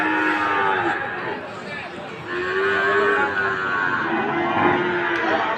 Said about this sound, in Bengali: দেখছেন এক্সক্লুসিভ বাছুর, হাটের সেরা বাছুর শাহিওয়াল সার